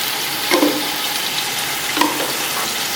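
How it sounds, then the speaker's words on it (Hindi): Garlic paste and red chilli fry in hot oil for chicken biryani, a steady loud sizzle broken by two distinct spoon scrapes as the mixture is stirred. "इसको हिलाएंगे अच्छी तरह।"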